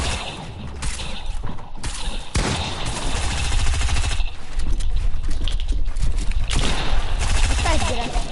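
Heavy video game gunfire in a solo battle royale fight, dense bursts of automatic shots with brief gaps between them, loud and close, mixed with mechanical clatter and some talk.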